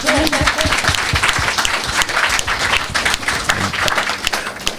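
Applause from a poetry slam audience at a literary festival, crisp overlapping claps that stay loud and sustained throughout, with faint crowd voices mixed in.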